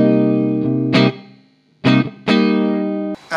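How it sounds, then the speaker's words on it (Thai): Loud electric guitar chords run through the reverb effect of a Cuvave Cube Baby multi-effects unit, strummed in a few separate bursts with ringing tails between them and no speech. "อันนี้เรามาลองฟังเสียงรีเวิร์บกันดีกว่า"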